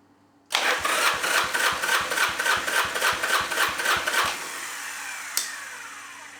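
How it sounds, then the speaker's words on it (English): A freshly overhauled Yamaha XV1000 Midnight Special V-twin cranked over with the throttle open for a compression test, giving a loud, even, rhythmic chugging of about a dozen strokes that stops abruptly, followed by a single click and quiet hiss. "So I'll just start her up and open up the throttle and just crank her over."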